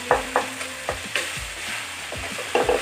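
Eggplant being mashed in a frying pan with a utensil: a series of sharp scrapes and knocks against the pan, roughly every half second, over a faint background sizzle, with no talking.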